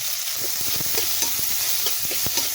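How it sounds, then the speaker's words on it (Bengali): Onions fry in hot oil in a pan with steady sizzling, while a utensil stirs them with irregular scrapes and clicks close by, and no one speaks. "পেঁয়াজটা ভালো করে ভেজে নেবো"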